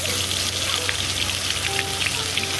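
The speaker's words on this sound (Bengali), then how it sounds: "এইভাবে এক এক করে আদা রসুনের বাটা যে পেস্টটা ছিল, সেই পেস্টটা আমি দিয়ে পরে ভালো করে নাড়াচাড়া করে নেব" Ginger-garlic paste fries for a mutton curry, giving a dense, continuous sizzle with scattered pops and a low steady hum underneath.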